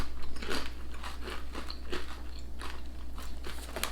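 Crunchy UK potato crisps are bitten and chewed up close, giving a run of sharp, irregular crackling crunches over a low steady hum.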